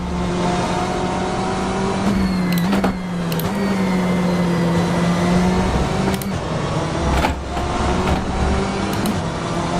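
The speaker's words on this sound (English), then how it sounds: "The car approaching." In the rFactor 2 sim at Road America, a BMW M8 GTE engine drones steadily at close range while another race car closes in from behind, its higher engine note rising over the continuous roar, with brief gearshift dips.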